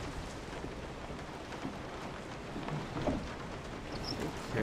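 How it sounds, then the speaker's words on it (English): Rain falls outdoors in the horror video game Resident Evil 7, a steady, even hiss of rainfall with faint low rumbles underneath, continuing throughout at moderate volume. "It's raining outside now."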